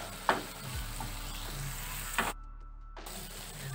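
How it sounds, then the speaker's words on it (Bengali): Ground turmeric, chili, cumin and coriander fry in oil with a splash of water for a masoor dal tadka, giving a quiet, steady sizzle with a couple of soft stirring clinks and a short pause. "মশলাগুলো ভালো করে কষিয়ে নিয়েছি, সাইড থেকে তেলও ছেড়েছে।"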